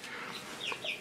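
Cornish cross chickens on a small homestead give a few close, soft clucks and chirps within a brief moment.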